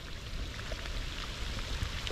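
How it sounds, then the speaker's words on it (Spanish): Rain falls steadily outdoors by a creek while fishing, a dense even hiss with scattered drop patters and low rumble, continuous and fairly close, with no voices. "Para rato, pero vuelve a llover."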